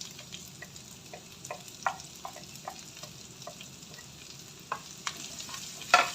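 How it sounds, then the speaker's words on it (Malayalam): Chopped onion and green chili frying in a pan for a cabbage and carrot thoran, with a soft steady sizzle and intermittent scraping stir strokes, close and fairly quiet. "ഇനി നമുക്ക് സവാള അരിഞ്ഞതും പച്ചമുളകും കൂടെ ചേർത്ത് കൊടുക്കാം."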